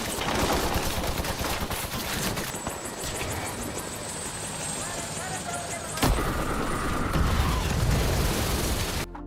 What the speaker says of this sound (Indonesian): dikagetkan dengan kemunculan helikopter yang menembaki tempatnya secara membabi buta